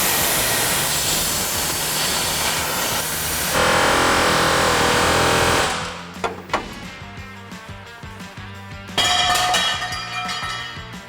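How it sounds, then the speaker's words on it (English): Loud, steady hiss of a plasma cutter slicing through a bolt on a 1973–1987 Chevrolet C10 truck frame, running continuously for about six seconds, then cutting off into scattered clanks and a brief second burst of hissing. "So I'm just gonna take and plasma cut it."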